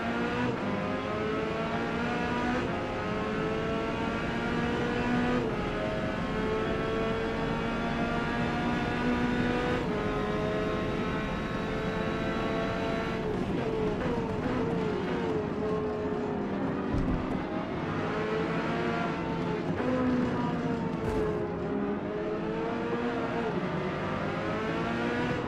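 Race cars in the Forza Motorsport video game, one a Porsche, hold a steady loud engine drone with several overlapping tones, a few shifts and passing swells, and occasional faint talk underneath.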